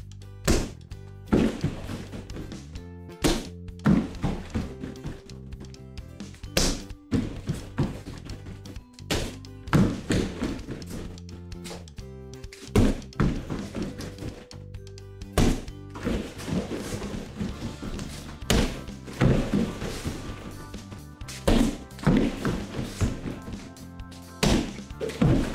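Martial arts kicks strike a kick bag in a steady series of sharp thuds and whacks at close range, spaced about a second or two apart during a warm-up workout.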